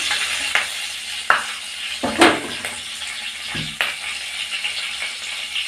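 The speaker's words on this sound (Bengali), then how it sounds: "একটু ভেজে নিচ্ছি আমি" Spices frying in a pan for a chanda fish curry, a low steady sizzle broken by several sharp clinks and scrapes of a spoon against the pan.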